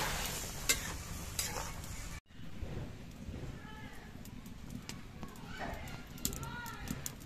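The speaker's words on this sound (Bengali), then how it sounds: "এবার এর মধ্যে আমি ঝোল দিয়ে দিচ্ছি।" Sea fish frying in a pan as a small amount of gravy goes in, a loud sizzle and stirring that drops abruptly, then a quieter bubbling hiss with spatula scrapes and faint background voices.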